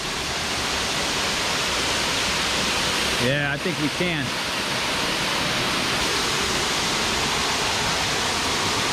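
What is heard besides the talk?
lower waterfall at Quaker Falls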